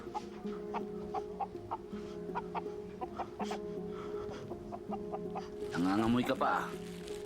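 A chicken clucks repeatedly in short, rhythmic bursts close by over a steady background hum, with a voice speaking briefly near the end.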